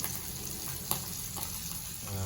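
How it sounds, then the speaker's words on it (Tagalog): Bangus milkfish frying in a pan, ahead of a tochong bangus dish with labong bamboo shoots and tokwa, a soft continuous sizzle with light stirring clicks, heard close and fairly quiet. "Nagpiprito po tayo guys."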